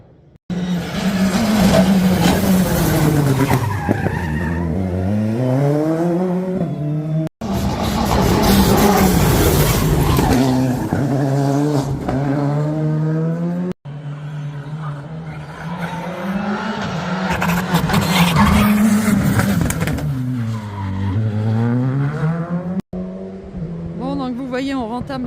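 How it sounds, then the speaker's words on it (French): Cars racing along a mountain road near Morzine, roaring past one after another with rising and falling engine notes and squealing tyres, loud and close, with voices faintly underneath. "je vous mets quelques petites vidéos des voitures qui passent, ça va vite"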